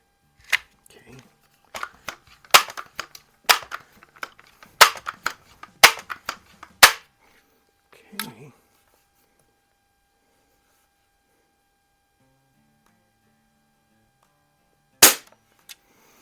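Crosman 760 pump air rifle firing a string of sharp, dry cracks, close and distinct with gaps of a second or so, then a long quiet stretch before one final shot.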